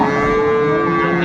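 A Sahiwal bull moos in a long, steady, loud call at a busy cattle market in Dinajpur, the low tone holding evenly throughout with crowd noise beneath.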